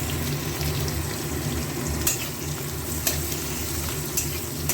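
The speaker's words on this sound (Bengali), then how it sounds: "পেঁয়াজ আর রসুনটা একটু ভালো করে ভাজা ভাজা হবে।" Onion and garlic pieces fry in a pan, giving a steady, close sizzle with light stirring scrapes and a few sharp clicks, without any talking.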